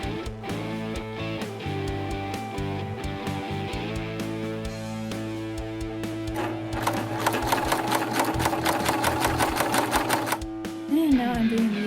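A sewing machine stitches the set-in sleeves of a bike jersey, its rapid mechanical needle chatter running steadily near and loud, speeding up into a faster burst before stopping.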